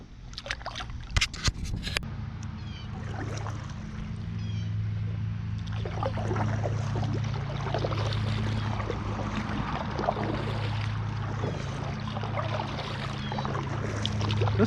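Paddling a 12-foot Vibe Yellowfin 120 kayak on open water, with steady sloshing and trickling strokes against a constant low hum of wind or motion, a few sharp knocks near the start.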